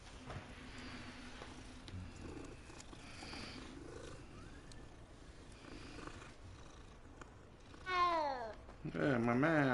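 A cat in the Hogwarts Legacy video game purrs softly, then lets out a few drawn-out meows toward the end, with a person talking quietly over it.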